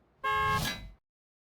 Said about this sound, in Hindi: अरे ये हॉर्न किसने बजाया?